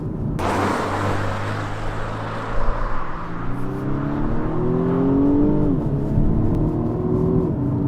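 A BMW M135i's synthesized active engine sound accompanies driving, a sustained drone whose pitch climbs with speed, steady and close inside the cabin, with no talk over it.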